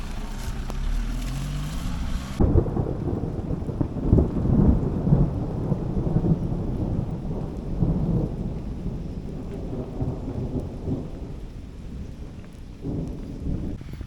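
A sudden Konkan thunderstorm: heavy rain pours in a dense, constant roar, with gusting wind and deep thunder rumbling through it.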